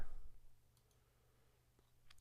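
A computer mouse clicks on a map icon in a web page: a few small, dry clicks close by, spaced apart near the end against a faint hum.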